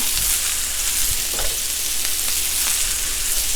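Straggler onions frying on a hot griddle beside smash burgers, a steady broadband sizzle running throughout with a few brief crackles and pops, fairly close and continuous with no talking.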